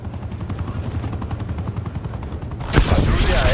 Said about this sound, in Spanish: El helicóptero va a comenzar el ataque terrestre.